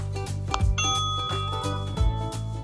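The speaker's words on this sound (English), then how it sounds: "hold the doorbell button down for 5 seconds until you hear a ringtone" A eufy video doorbell plays its chiming ringtone, a bright melodic sequence of tones over a steady electronic background, clear and close with no talking.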